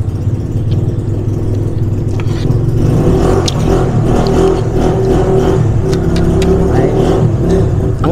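A motorbike engine runs outside, loud and steady throughout, its low drone rising slightly in pitch partway through as it passes close by, with no talk over it.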